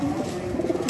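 A pied pigeon coos close by at a pigeon-keeping hobby loft in Layyah, a low, soft, rolling coo with no talking over it.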